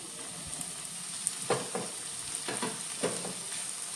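Finely chopped tomatoes fry with softened onion in a pan for a Konkani dry prawn dish. A soft, steady sizzle is broken by a few spatula scrapes and taps.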